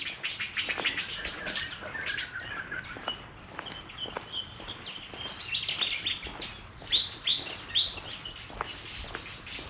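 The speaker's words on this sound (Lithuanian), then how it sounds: "Paukščiukų daug visokių įvairių." Many small birds chirp and tweet in a busy chorus on a Thai island, with close, bright calls scattered throughout and soft rustling and footsteps beneath them.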